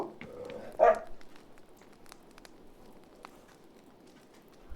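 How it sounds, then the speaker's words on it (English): A dog in the video game Pentiment gives a short bark near the start, then quieter scattered ambient clicks and taps continue in a calm scene. "Very noisy dog."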